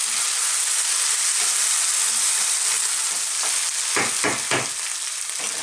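Beef and beans stir-frying in oyster sauce over high heat give a loud, steady sizzle up close, with a few short scraping stirs near the end.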